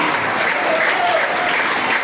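A church congregation claps loudly and steadily, a dense, continuous wash of many hands applauding together throughout, with no one speaking.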